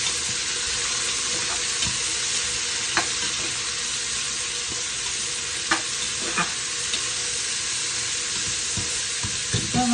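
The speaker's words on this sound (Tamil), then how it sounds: "இப்போ வெங்காயம் வதங்கட்டும்." Sliced onion sautés in a pan with a continuous, even sizzle, up close, punctuated by scattered soft clicks and scrapes of stirring.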